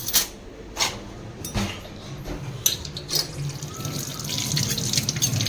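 A spoon is rinsed under a running kitchen tap, with water splashing steadily at close range and a few clinks and bursts as it is washed.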